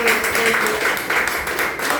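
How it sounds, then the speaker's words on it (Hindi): Enthusiastic applause from an audience at a talk, continuous clapping throughout, with speech-like tones mixed in underneath. "इनके लिए जोरदार तालियां होनी चाहिए"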